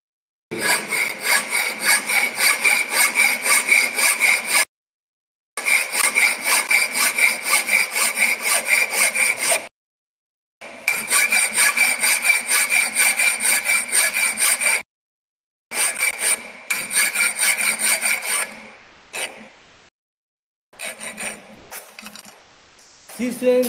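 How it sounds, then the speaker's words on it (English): A hand file works a metal workpiece in rhythmic back-and-forth strokes, coming in several long, even bursts separated by short silences. Near the end the strokes turn shorter and more broken. "this side is more material, so I will file this portion first."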